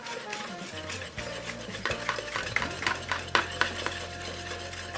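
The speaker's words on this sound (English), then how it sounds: "Now, take your whisk and beat." A whisk beats cornbread casserole batter in a bowl, a rapid rhythmic clatter of wire against the bowl, close and fairly loud, with a low hum underneath.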